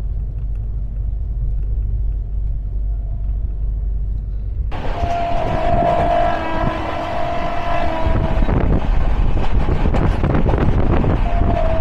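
A train rolls past Dankuni Junction with loud continuous rumble and rattling wheels, then a brighter surge of clattering rail noise and a sustained horn-like tone midway, steady and close throughout.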